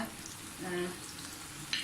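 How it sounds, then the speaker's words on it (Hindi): Garlic-ginger paste and green chili paste fry in a hot pan with a steady low sizzle and occasional stirring scrapes, close and fairly faint. "सबसे पहले आप इसमें ये लहसुन अदरक का पेस्ट और जो हमने हरी मिर्चों का पेस्ट है ये डालें।"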